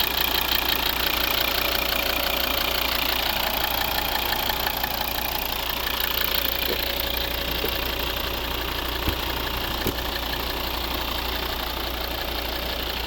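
A 2012 Volvo XC70 2.4 D5 diesel engine with automatic transmission idles steadily with a rattling, knocking chug, close and continuous for the whole stretch, with a couple of faint clicks and no speech.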